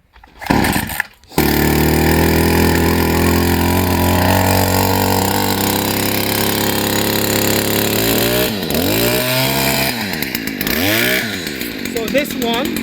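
A Stihl FS 56 petrol brush cutter with a 27cc engine starts after a short pull, then runs loud and close at a steady idle before being revved up and down in rising and falling sweeps.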